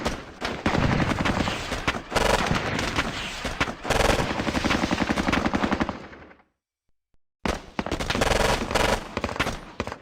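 Dense, loud bursts of machine-gun and rifle fire from the Squad Battles Eagles Strike wargame, near-continuous rattling that cuts out briefly before resuming with no voices.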